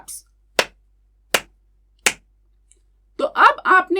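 Three sharp hand claps sound one after another at an even pace in a Hindi-English classroom lesson for young children, with clear silence between them, followed by a speaker talking.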